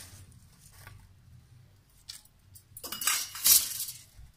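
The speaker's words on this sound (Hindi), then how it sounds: "तो इसे मैं एक प्लेट में टिश्यू पेपर पर निकाल लेती हूँ" Fried besan sev is tipped from a metal sieve onto a tissue-lined plate: a few soft taps and rustles lead to a brief cluster of bright metallic clinks near the end, close and fairly quiet.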